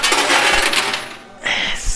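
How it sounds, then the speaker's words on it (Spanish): Coins clatter and drop inside an arcade coin pusher machine, a busy metallic rattle filling most of the two seconds, pausing briefly before another burst of falling coins near the end. "Bajando monedas, bajando premios."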